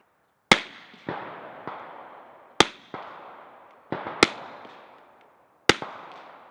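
Five sharp muffled shots from a suppressed Glock 19 pistol firing 147 grain Speer Gold Dot G2 rounds ring out at irregular intervals, each followed by a fainter crack and a short decaying echo.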